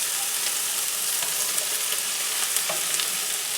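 Sausage and mushrooms fry in a pan, a steady close sizzle with light crackles and occasional stirring scrapes, no voices.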